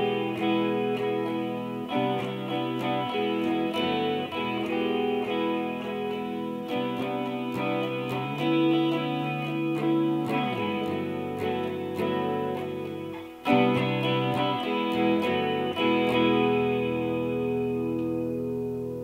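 Electric guitar strumming a song intro, clean with chorus and a touch of echo; steady, rhythmic chord strums with shifting shapes up the neck, played slowly and alone for about twenty seconds, up close.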